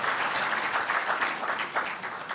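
A hall full of people applauds at a university newspaper's 70th anniversary ceremony, a dense, even wash of clapping that carries on steadily throughout.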